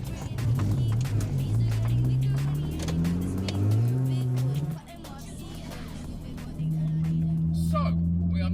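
A supercharged 1.6-litre Mini Cooper S drives along, its engine droning and rising in pitch through the gears, dipping briefly before settling into a steady hum.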